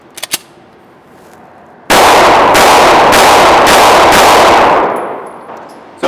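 A compact Heckler & Koch VP9SK striker-fired polymer pistol with a 15-round magazine fires a loud, rapid string of shots that blur into a continuous roar for about three seconds before trailing off.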